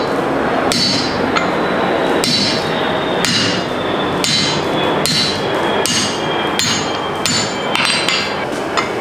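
Steady hammer blows on forged steel rebar to cut it off, about a dozen loud ringing metallic strikes at a regular, unhurried pace over continuous shop noise, close and without talk.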